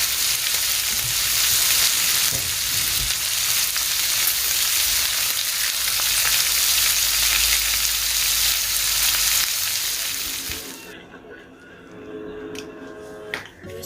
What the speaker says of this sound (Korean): 노릇노릇 잘 익게 앞뒤로 잘 뒤집어주고 살짝 시즈닝도 뿌려줬어요